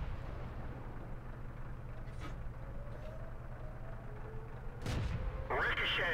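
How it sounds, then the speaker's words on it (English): A World of Tanks shell from a Pz.Kpfw.III Ausf.A strikes an enemy turret and ricochets, a sharp loud impact crack over a steady engine rumble, with a faint earlier distant shot and a brief metallic ringing tail. "Amazingly, we hit him with that shot, but it ricochets off his turret"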